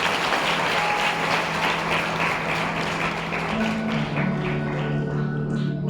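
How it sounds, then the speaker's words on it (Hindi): A church congregation claps during a Sunday worship service, a steady wash of hands filling the room throughout, with a low sustained tone, likely music, underneath. "तालियां बजाकर उनकी मदद करो।"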